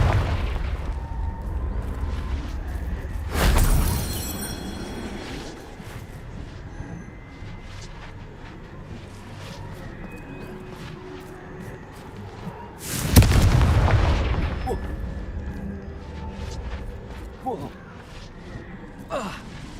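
Two loud booming blasts from the Confringo spell in the Hogwarts Legacy game, each with a sharp onset and a rumbling tail, set against steady game ambience with a voice nearby.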